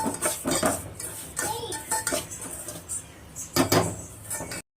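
A spoon scrapes and clinks against a pan while semolina is stirred and dry-roasted for rava payasam. The strokes come in a quick, uneven rhythm and sound close and fairly loud.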